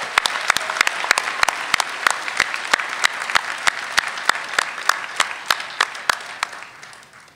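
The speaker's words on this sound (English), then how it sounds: "Let's have one more round of applause for our doctoral graduates." A large commencement crowd applauds doctoral graduates with sustained, dense clapping. Sharp individual claps stand out above the steady wash, which fades slightly toward the end.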